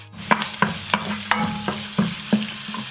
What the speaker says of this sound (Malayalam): ഇതിലേക്ക് അത്രയും തന്നെ വെളുത്തുള്ളി ചതച്ചതും വേണം. ജസ്റ്റ് ഒന്ന് വഴറ്റി കൊടുക്കാം.